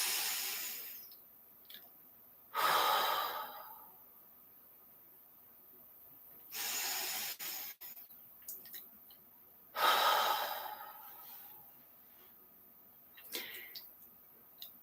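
Three big, deep breaths are drawn and released during a morning breathing exercise, each a soft, airy rush spaced a few seconds apart, close and quiet against a near-silent room.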